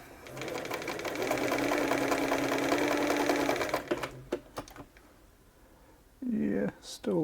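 A Bernina 930 Record electronic sewing machine hums loudly and steadily as it stitches zigzag for close to four seconds, then gives a few separate clunks before a short rise of noise near the end.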